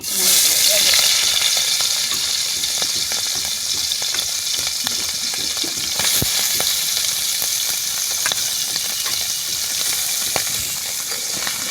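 Gunge fish frying in hot oil, a loud, dense, steady sizzle and crackle that runs unbroken throughout, with scattered sharp pops and no talk over it.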